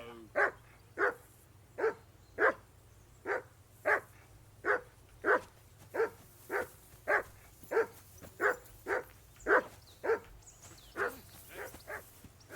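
A dog barking in Kingdom Come: Deliverance 2, about twenty evenly spaced gruff barks over a low steady hum, fairly loud and with no talk.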